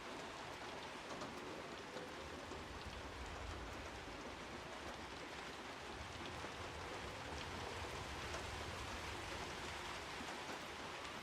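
Steady rain in the video game Hunt: Showdown, a dense continuous patter of drops on surfaces, even and unbroken throughout with no voices.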